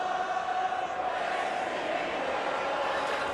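Football stadium crowd at a CFL game between the Hamilton Tiger-Cats and Calgary Stampeders, a steady, loud roar of disapproval after a replay ruling, sustained and even throughout.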